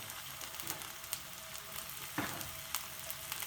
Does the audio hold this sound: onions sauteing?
yes